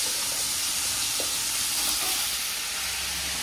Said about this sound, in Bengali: আলু ভাজা করছে, আলু ভাজা